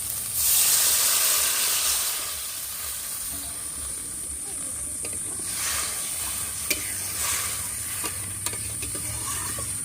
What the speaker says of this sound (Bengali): মশলা কষানো হয়ে গেছে তেল ছেড়ে দিয়েছে এবার আমি দিয়ে দেব জল